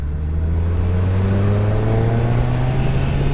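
A 2021 Suzuki Hayabusa with ride-by-wire throttle pulls through traffic, its engine note steady and loud at close range, with rising harmonic lines as it accelerates.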